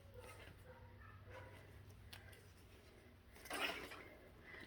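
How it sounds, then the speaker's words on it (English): Dogs next door bark and carry on faintly in the distance, a few soft, muffled yips and barks rising over quiet indoor room noise, with one slightly louder burst near the end. "They are just barking and carrying on."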